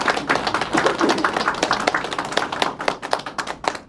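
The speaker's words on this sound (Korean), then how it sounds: "여러분이 맞으면 박수를 치는 겁니다" Audience at a regional party New Year greeting event claps in agreement, a dense, fairly close patter of many hands that thins into sparser individual claps toward the end.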